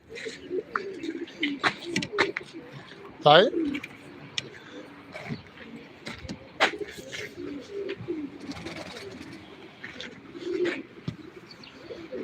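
Pigeons coo softly in repeated low calls while people talk nearby, with a short flutter and scattered bird chirps in between.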